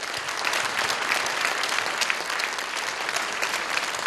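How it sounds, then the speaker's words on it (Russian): Sustained applause from a concert audience at a 2011 anniversary evening honoring Luhansk composer Serhiy Tolkachov, dense steady clapping filling the hall with no voices over it. "Аплодисменти нашому ювілярову."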